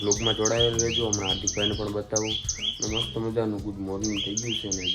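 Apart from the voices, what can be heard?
sparrows chirping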